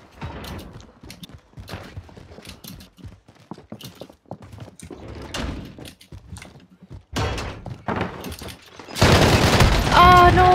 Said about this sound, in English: I was shooting Keith.